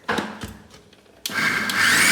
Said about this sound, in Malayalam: അരക്കുമ്പോൾ ശ്രദ്ധിക്കേണ്ടത് ഇടയ്ക്കിടയ്ക്ക് മിക്സി ഓഫാക്കിയിട്ട് ഒന്ന് ഇളക്കി കൊടുക്കണം